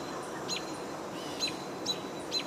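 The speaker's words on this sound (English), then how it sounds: "Hearing a catbird as well." Catbird singing outdoors, several short chirpy phrases at moderate distance over a quiet hum, no speech.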